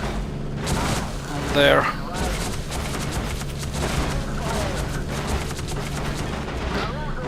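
Bombs bursting in the Ju 88 bomber flight game, a steady run of dull booms and rumbling blasts under engine drone, while someone talks over them.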